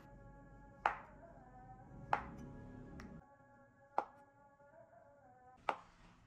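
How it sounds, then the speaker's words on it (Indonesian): Knife slicing egg tofu thinly on a cutting board: five sharp, separate chops spaced about a second apart, close and clear over a quiet background. "di sini aku bakal potong tipis"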